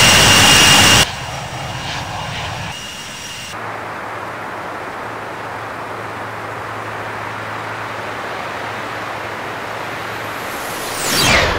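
United Boeing 747 taxiing in the Infinite Flight game, a steady jet engine drone that shifts after a loud opening second and holds at an even level before swelling slightly at the end.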